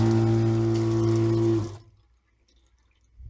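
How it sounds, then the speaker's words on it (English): Running water flows from a camper faucet fed by a 12-volt pump, a steady loud hiss with the pump's hum underneath, stopping abruptly partway through and leaving near silence. "And we've got our running water."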